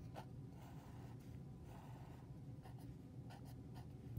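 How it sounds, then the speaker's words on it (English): A pen or marker drawing a tape diagram produces a steady, soft scratching and scraping at close range, continuous with short strokes and pauses, and no speech over it. "So I'm going to draw another tape diagram."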